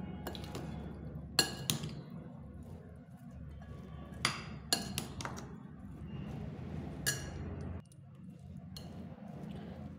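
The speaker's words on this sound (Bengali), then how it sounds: "অনেকক্ষণ ধরে সুন্দরভাবে মিশিয়ে নিতে হবে।" Masala chana being mixed in a bowl: a spoon clinks and scrapes against the dish in irregular taps amid soft squishy stirring, close and fairly quiet, with no talking.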